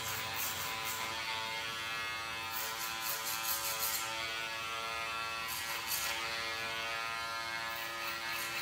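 Electric hair clippers buzz steadily up close as they cut hair over a comb during a short bald fade, a constant whine with brief brighter bursts where the blades bite into hair.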